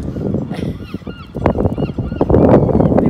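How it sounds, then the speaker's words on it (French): Loud honking seagull calls, repeated several times close by over an outdoor background, with a faint voice mixed in. "Les mouettes."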